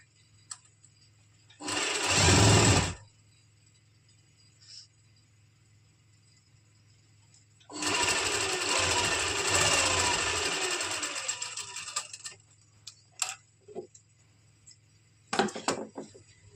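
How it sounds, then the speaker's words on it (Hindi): A sewing machine stitches lining onto kurti fabric for a party-wear suit, running in two bursts, a short one and a longer steady run, with quiet handling noises between and after. "इसको हम इस तरह से सिलाई लगा लेंगे लाइनिंग और कुर्ती के फैब्रिक पे।"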